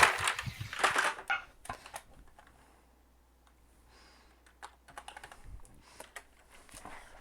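Short bursts of keyboard typing, loud and busy at first, then scattered, lighter keystroke clicks trailing off over a faint background hum.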